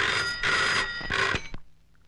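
A telephone rings in a Telugu comedy film scene, sounding as a few bright, buzzy ring bursts that cut off abruptly and leave near silence.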